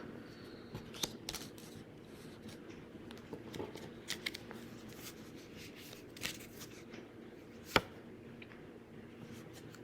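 Oversized cards are handled and shifted across a table, giving faint, scattered rustles, slides and light taps, with one sharper click near the end.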